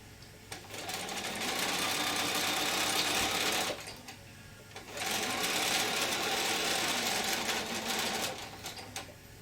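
Sewing machine with a 1/4 inch foot stitching a curved seam on a small adult face mask, humming in a close steady run, pausing briefly to reposition, then running on again, no talk.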